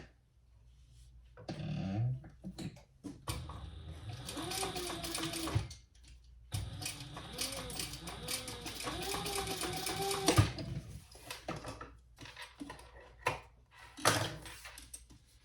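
A sewing machine top stitches a fold of about 3/8 inch on a small fabric sling bag, a steady whirring run with pauses, heard under a person talking.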